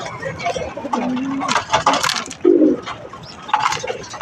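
Racing pigeons in a loft give a few soft, close coos and brief throaty calls amid rustling, with faint background noise.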